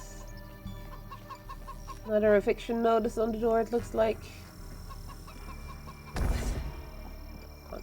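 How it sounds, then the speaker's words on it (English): Chickens cluck in a short burst of close, loud calls in a farmyard with goats, with a voice talking over and after them. "Some chickens."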